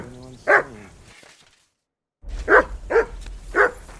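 A dog barks in the medieval video game Kingdom Come Deliverance 2: one bark, a brief silent gap, then three more sharp barks in quick succession, loud and close.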